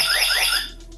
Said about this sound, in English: Oh, there's your alarm.